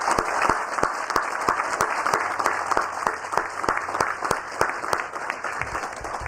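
An audience at the opening of the Prysmian Group plant in Du Quoin applauds steadily for several seconds, with regular low thumps pulsing beneath the continuous clapping.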